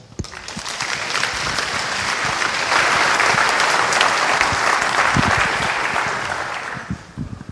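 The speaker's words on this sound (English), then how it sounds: "Please give him applause." A conference audience at FOSDEM applauds a speaker who is about to give a Linux kernel talk. The clapping is dense and steady, swells to its peak midway through, then fades over about seven seconds.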